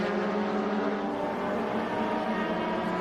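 Race cars at Road America sweep into turn one in a close pack, their engines a steady, fairly distant high-pitched drone with layered whine that holds evenly throughout.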